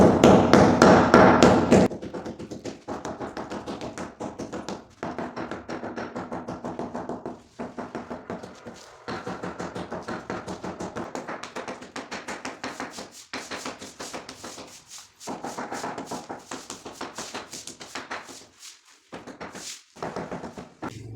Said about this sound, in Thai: เราต้องไล่เคาะออกให้หมดนะครับ